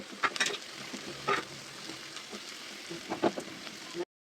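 Sliced onions, wilted soft, fry in a pan for a home-style Kerala beef curry with a soft continuous sizzle and a few light stirring scrapes, fairly quiet and without talk, before cutting off abruptly.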